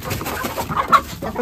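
A white rooster clucks and squawks while being grabbed, a few short, loud close calls over rustling and scuffling, with no talk during the clip.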